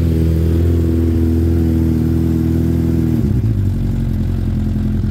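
A Peugeot Satelis 2 125cc scooter engine idles low and steady close by, a continuous droning hum that shifts slightly lower partway through, with no talking.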